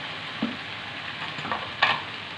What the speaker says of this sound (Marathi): फ्राय करते